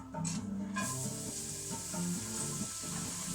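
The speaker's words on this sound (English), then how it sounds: "make sure it's got a bit of a sizzle going on to it" Onions sizzle steadily in a frying pan, a continuous hissing crackle close by with soft rhythmic stirring scrapes, no talking.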